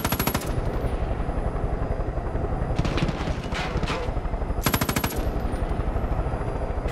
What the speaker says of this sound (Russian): Не понимаю, зачем стрелять в вертолет.